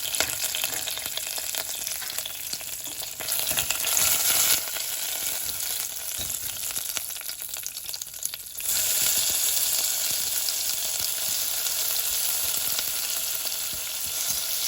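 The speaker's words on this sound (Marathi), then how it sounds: "बरे भशेन भाजून हाडया हो पियाव." Sliced onion frying in hot oil with curry leaves for a Goan moong dal dish, a steady loud sizzle running throughout, with a brief dip near the middle before it swells back up.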